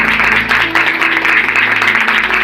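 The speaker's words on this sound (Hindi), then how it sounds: "इसके लिए जोर से ताली के साथ प्रभु का धन्यवाद करेंगे।" A church congregation at a Sunday service claps loudly and steadily in thanks to the Lord, a dense wash of applause over a low sustained musical tone.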